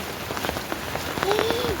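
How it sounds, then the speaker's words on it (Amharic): Heavy rain pours down with scattered hard taps of hail striking a surface, steady and close. "ሲባረድ አያችሁት በረዶ"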